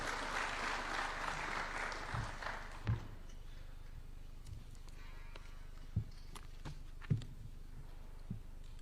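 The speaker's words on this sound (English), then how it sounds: "Why don't we welcome him with a warm clap as he approaches the stage." A burst of applause welcoming a speaker to the stage at a University of Nairobi launch event, fading out within a few seconds, followed by scattered faint taps and thumps in a quiet room.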